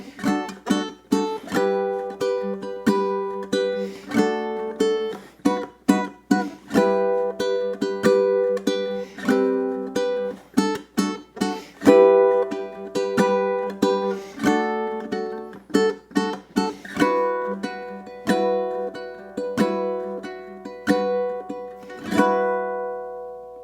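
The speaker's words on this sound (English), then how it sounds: "this entire guitar and uke solo section sounds like this" A guitar and ukulele trade a solo passage from a love song, bright plucked strummed chords and picked notes in a lively, uneven rhythm, close and full, carrying for over twenty seconds with no voices.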